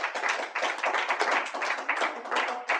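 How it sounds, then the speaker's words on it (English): Audience applause at a 12-step recovery meeting, steady dense clapping from many hands sustained throughout without a break, moderately loud and close, no talking. "let's give her another round of applause here, please"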